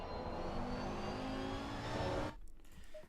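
A race car engine in the sim racing game Assetto Corsa EVO revs and builds acceleration, a loud steady drone with rising harmonics that cuts off abruptly near the end, leaving quieter low rumble.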